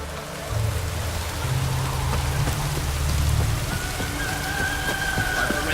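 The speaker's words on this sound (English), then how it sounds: "Rains like this come sowing time." Steady rain in The Witcher 3: Wild Hunt patters in a continuous wash while low tones hum underneath and a faint higher whine rises toward the end, with no talk over it.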